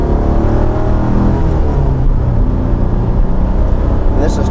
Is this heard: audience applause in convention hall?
no